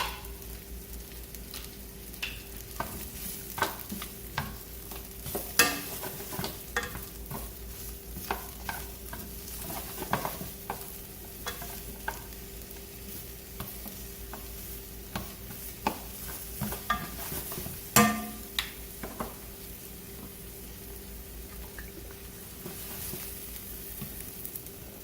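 Shallots cook in a hot pan after seared salmon, giving a soft, even sizzle under frequent stirring scrapes and a few louder clinks, fairly quiet and close with no speech.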